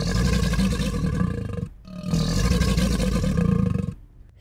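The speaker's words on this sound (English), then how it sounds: "but their main sound is a bellow, which is sort of like a deep growl" Alligator bellowing, two long, loud, deep rumbling growls separated by a brief pause, close and alone with no talking.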